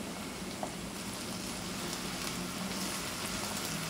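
Tomatoes and whole green chilies sizzle in a pan of frying okra, giving an even, hissing crackle of moderate loudness that holds steady throughout.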